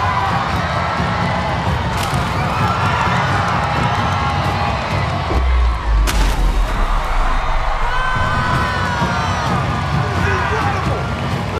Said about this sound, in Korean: 관객석과 심사위원석 모두 브라보를 외치며 박수를 보냈습니다